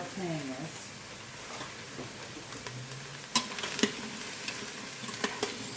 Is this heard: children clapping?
no